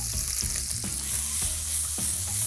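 Sliced onion and four or five lime leaves sizzle in a hot pan for tuna masala. A loud, continuous frying hiss sits up close, punctuated by a few soft stirring knocks.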